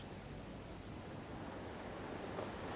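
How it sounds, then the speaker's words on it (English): Steady ocean surf washing onto a beach, a soft continuous roar with slight wind noise, distant and even throughout without voices. "enjoying the ocean, the waves"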